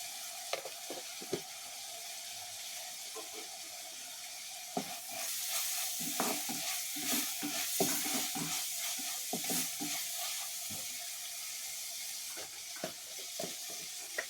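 Curry leaves crackle and sizzle in hot oil in a pan while a spoon scrapes and stirs in irregular strokes, close and steady, while a jackfruit thoran is cooked.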